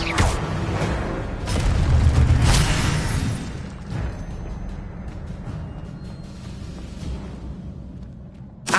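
A spell-casting burst from Hogwarts Legacy swells into a loud fiery whoosh and boom, then settles into a lower crackling rumble with scattered pops that fades out.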